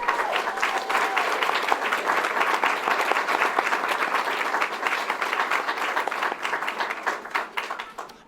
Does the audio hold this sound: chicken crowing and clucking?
no